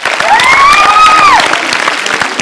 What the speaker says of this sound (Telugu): సో ఒకసారి గీతాకి గర్ల్స్ అందరు గట్టిగా క్లాప్స్ కొట్టాలి